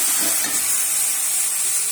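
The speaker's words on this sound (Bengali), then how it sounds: "এখানে মশলা কষানো হচ্ছে।" Spices frying in hot oil in a wok, a steady close-up sizzle and hiss that holds unbroken throughout, with no voices.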